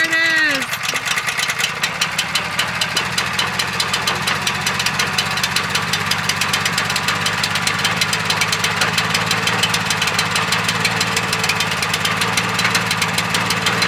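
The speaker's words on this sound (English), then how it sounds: "Imagine having to pull a chain to start an engine." A small pull-start engine sputters to life after a brief attempt, then settles into a steady, loud chugging idle that runs continuously.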